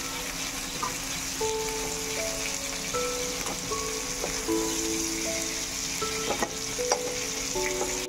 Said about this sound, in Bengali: চিংড়ি মাছটা কিন্তু খুব একটা ভাজবো না, হালকা করেই ভাজবো